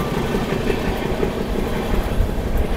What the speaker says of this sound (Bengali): ট্রেনটা পুরো কার্ভ নিচ্ছে।